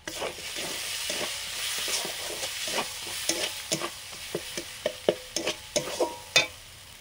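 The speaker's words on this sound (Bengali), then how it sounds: "জল দিয়ে মশলাটা কষে নিচ্ছে।" Crab curry masala with green chili, a little sugar and Kashmiri chili powder sizzles softly in a pan with added water, with a rapid series of sharp scraping and tapping strokes from stirring that grow more frequent.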